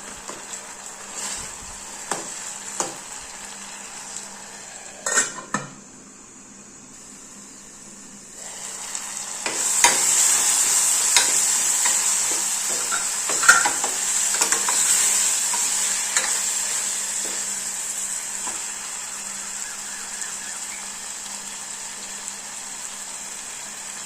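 Tomatoes sautéing and being stirred in a pan for a drumstick and lentil sambar, a soft sizzle with scraping spoon strokes that drops away briefly, then returns as a brighter, steadier hiss.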